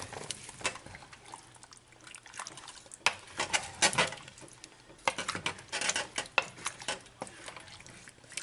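Baby carrots and chopped potatoes tumbling into a stew pot, with several bursts of clattering, scraping and clinking against the pot that come and go over a few seconds, close and fairly loud.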